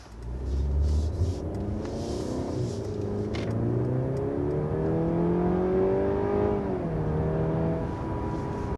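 A 2023 Mercedes C-Class engine revs hard in sport mode, pitch climbing through several sharp gear changes, loud and close with a deep rumbling tone.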